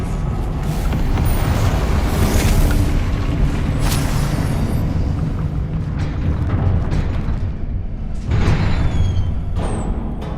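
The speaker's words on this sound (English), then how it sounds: "Expelliarmus" Spell-casting blasts from Hogwarts Legacy, a wizard video game: a Expelliarmus disarming spell among booming magical impacts and whooshes, loud and close, with bursts at intervals over a constant rumbling battle backdrop.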